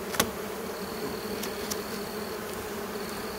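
Honey bees buzz steadily inside a recently hived swarm, a dense continuous drone close up with a few sharper passing whines from individual bees.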